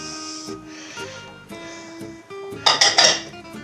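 White flour, chestnut flour and a pinch of salt get mixed in a bowl for chestnut shortbread, with light clinks and taps of a utensil on the bowl and a busier burst of scraping near the end.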